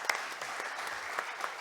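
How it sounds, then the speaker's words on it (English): Audience clapping for a panelist at a shipping technology conference panel on green energy, a steady moderate patter of many hands with a few sharper claps standing out, fairly quiet and continuous throughout. "Thank you for all the clapping,"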